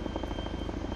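A B-44X Blackfish, a video-game helicopter-plane hybrid, drones with a close, loud engine roar and fast rotor chop pulsing steadily throughout.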